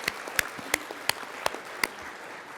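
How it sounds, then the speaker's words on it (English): Scattered applause from a conference audience, a handful of sharp, separate claps spread unevenly over a quiet room rather than a full ovation. "So if we could give them a round of applause."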